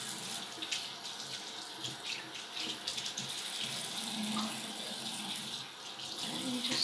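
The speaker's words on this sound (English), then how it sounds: "I'm just gonna turn the water on." Water running from a tap at a hair salon wash basin, a steady, soft hiss and splash that flows continuously at low volume with no talking.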